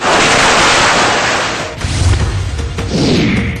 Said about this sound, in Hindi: इस दौरान जमकर पटाखे भी फोड़े गए।